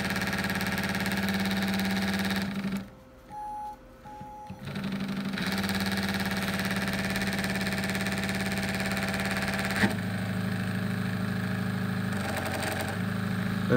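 A combined alternator and brushless motor running at full speed, a steady high-pitched whine and hum held for most of the span with a brief dip near the start, close and loud, no talking.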